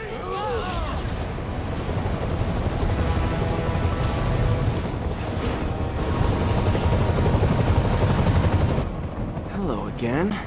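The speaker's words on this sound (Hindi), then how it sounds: "वो लोग हेलीकॉप्टर से भागने की कोशिश करते हैं।" Helicopter in the Marvel's Spider-Man video game, a steady loud rotor drone filling the scene, with a high whine and some game effects over it and brief voices at the start and end.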